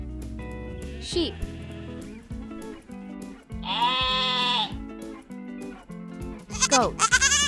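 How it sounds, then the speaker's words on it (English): A domestic sheep bleats in a few drawn-out, wavering calls, loud and close, over a steady musical backing with possible voices. "Sheep."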